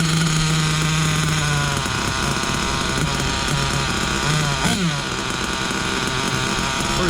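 An Ofna LX2 RC buggy's small nitro engine runs at throttle, a loud, steady, buzzing whine that holds throughout with slight pitch wobbles.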